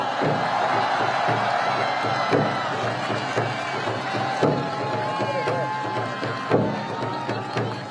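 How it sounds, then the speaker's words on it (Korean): Outdoors at a Seoul election campaign rally, a crowd claps and cheers in a busy, continuous roar, with shouts and voices mixed through it and a few sharp bursts. "여러분 큰 박수 부탁드리겠습니다"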